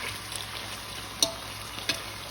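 Pork chops and mushrooms fry in a pan with a steady, even sizzle, broken by two faint clicks of a utensil.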